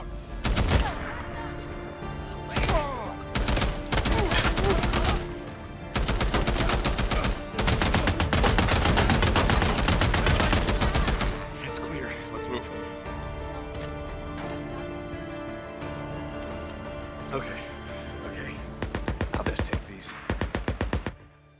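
Heavy gunfire in the video game Days Gone, with dense bursts of automatic fire and rapid shots for about ten seconds, then a quieter stretch and another short volley near the end.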